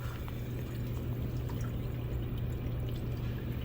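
Water pours steadily onto the frozen coil of a walk-in cooler, a continuous splashing stream over a low constant hum from the unit, with no talking.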